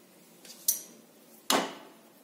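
A spoon stirs thick rice flour batter with butter in a pan, giving two distinct metallic knocks and scrapes against the pan over a quiet background.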